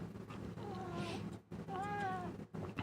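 A house cat meows twice, close by and fairly quiet, each call a drawn-out rising-and-falling mew separated by a short pause.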